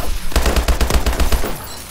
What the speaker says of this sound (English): What was that, like 3, 4, 5 shots?